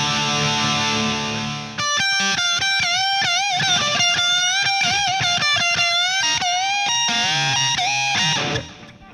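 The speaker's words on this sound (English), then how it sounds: "I wanted y'all to hear the pickups while I'm tuning it." An Epiphone 59 Les Paul electric guitar rings through its pickups with echo, a held chord followed by a string of plucked notes with bending pitches as it is tuned, loud and up close.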